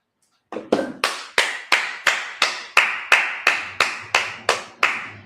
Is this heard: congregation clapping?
yes